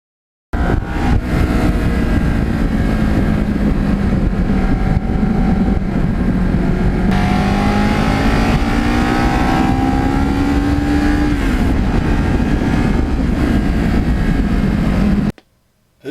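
A Kawasaki Ninja motorcycle cruising scenic country back roads near a lake in autumn, its engine a steady close drone that rises in pitch mid-ride, then cuts off abruptly at the end.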